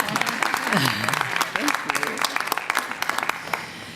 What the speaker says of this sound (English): please give the ED an applause